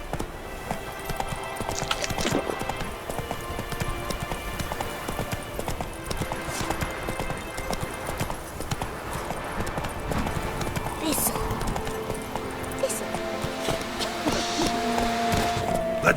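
Roach the horse gallops in The Witcher 3, hooves clip-clopping in a quick, continuous rhythm close up, with game ambience and scattered effects around it.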